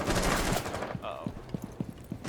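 Shotgun fire in the video game Rainbow Six Siege: a loud, dense burst of blasts at first, then a series of evenly spaced, punchy shots in a game mix.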